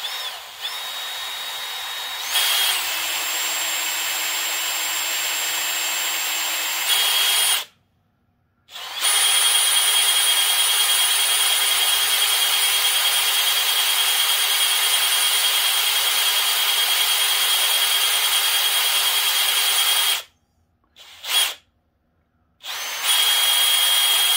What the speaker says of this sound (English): Let's see if we can drill this real careful.